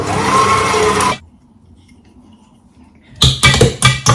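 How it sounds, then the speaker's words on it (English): Double cream being whisked by hand in a home kitchen, a dense steady whirring scrape for about a second, then a pause and several short bursts of brisk whisking near at hand. "So then you want to whisk this up."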